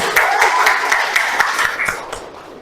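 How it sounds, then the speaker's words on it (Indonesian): A classroom audience claps for a student group after its presentation in an Islamic history lesson, a brief burst of mixed hand claps that fades out after a couple of seconds. "Kasih aplaus dulu"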